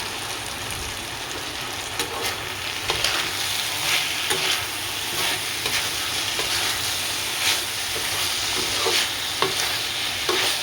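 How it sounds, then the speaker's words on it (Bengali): Sliced bitter gourd fries in a pan as a steady, close sizzle. Scraping stirs and clacks come at irregular intervals, and no one speaks. "করলাটা না একদম ভাজা ভাজা হবে"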